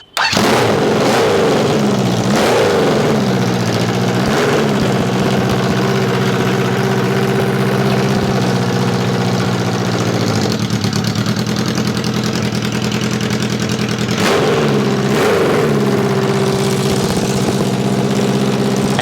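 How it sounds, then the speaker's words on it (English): Carbureted engine running on bolted-on headers with no mufflers, loud and raw, idling with a lumpy steady rumble and blipped into sharp revs several times over nearly twenty seconds, close to the microphone. "this is what it sounds like without the actual mufflers, just the headers bolted on"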